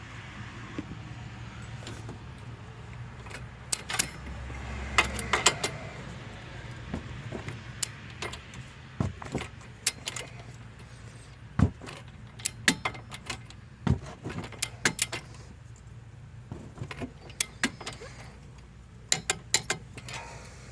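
A wrench tightens a new stabilizer link on a Chevrolet Cruze, producing scattered sharp metallic clicks and clanks close by over a quiet garage background, with no talking.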